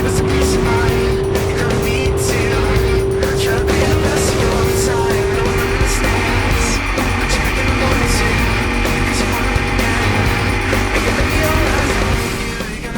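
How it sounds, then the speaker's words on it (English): Jet boats race side by side through a channel at the 2019 World Jet Boat Championships, engines roaring loud and close with a continuous high-revving whine, over a dense rumble, as a voice talks over them. "Justin showed some great driving to get back up around Kelly, though Kelly had too much top speed for Justin to keep up with."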